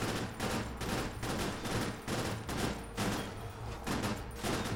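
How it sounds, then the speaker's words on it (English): A burst weapon in the Cryptark video game fires bolts in rapid, repeated volleys, a dense rhythmic stream of rattling shots at a fairly constant loudness. "So this is how the burst weapons work."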